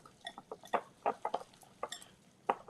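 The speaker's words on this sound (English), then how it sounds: "I'm going to use a whisk now." A whisk clatters against a bowl in quick, uneven taps and scrapes, close and fairly quiet, in a home kitchen with no talk.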